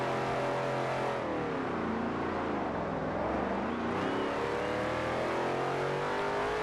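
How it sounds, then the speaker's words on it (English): Engine of a racing car in Forza Horizon 2 accelerating and revving hard, a continuous loud whine with pitch sweeping up and down across several gear changes, alone with no talk. "At certain RPMs, this engine accelerates extremely well."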